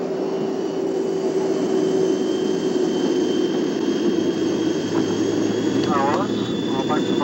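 Jet airliner engines drone steadily in flight, a loud constant whine and rumble with faint chirping sounds near the end.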